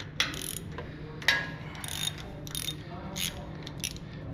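A hand ratchet with a 3/8 Allen socket clicks in short, close bursts while loosening the transmission filler plug on a Harley-Davidson Street Bob, with quiet pauses between the rapid pawl clicks.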